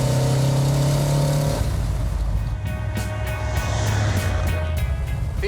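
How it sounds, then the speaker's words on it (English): A Dodge Challenger R/T 440 Six Pack with a 4-speed manual pulls steadily in third gear at around 45 mph, a deep continuous engine drone heard from inside the car that shifts tone partway through. "This is a 3rd gear pull."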